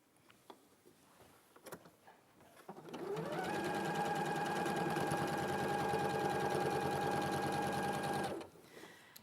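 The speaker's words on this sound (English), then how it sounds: "we're going to sew a 1/4 inch seam now" A sewing machine stitches a quarter-inch seam through six layers of fabric, a loud, steady mechanical whirr lasting several seconds with a quick ramp up and stop, preceded by light handling clicks.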